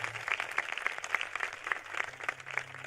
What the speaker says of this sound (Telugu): గట్టిగా చప్పట్లు దేవునికి స్తోత్రాలు చేద్దాం.